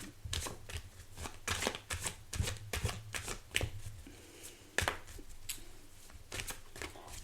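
Tarot cards being shuffled by hand, a close, fairly quiet series of rapid riffling and slapping bursts in an irregular rhythm over several seconds, with no talk.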